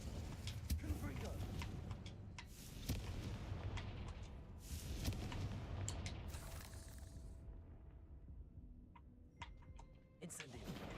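Repeated fire-spell blasts in the Hogwarts Legacy video game, a rapid run of sharp cracks and booms layered over crackling impacts and game ambience, loud and close with a quieter stretch before a final burst.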